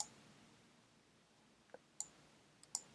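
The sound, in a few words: computer mouse clicking and right-clicking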